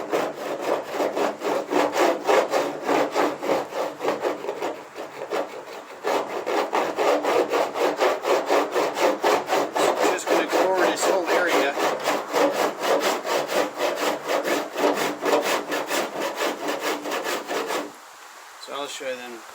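Rapid rhythmic rasping strokes of hand sanding body filler on a Ram 1500 repair panel scrub back and forth, close and steady, pausing briefly before continuing, then stopping near the end.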